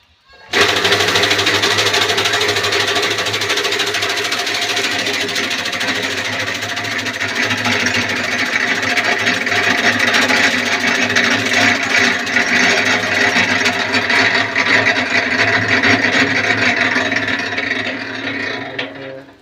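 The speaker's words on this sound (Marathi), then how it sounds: "मी इकडं कुट्टा मशीन चालवत आहे" A fodder chaff cutter machine runs steadily and loudly the whole time, a continuous mechanical whirring drone with rattling, no talk over it.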